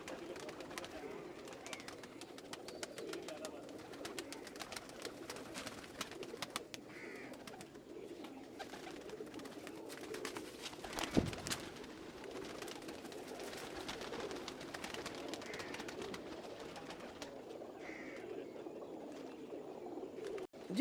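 Soft, low pigeon coos repeat throughout with faint rustling and clicks in a quiet space, one louder thump near the middle.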